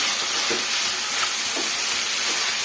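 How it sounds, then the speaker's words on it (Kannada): Chopped carrots frying in a hot pan give a loud, continuous, hissing sizzle, with a few soft stirring knocks rising out of it, and no one speaking. "ಕ್ಯಾರೆಟ್ನ ಫ್ರೈ ಮಾಡ್ಕೊಳ್ಳೋಣ"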